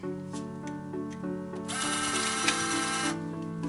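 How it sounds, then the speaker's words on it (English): An EloStar FlexID electronic lock retracts its bolt with a whirring motor buzz that grows louder midway, then drops back, close up with no talking. "you can hear there that the lock's bolt was just retracted"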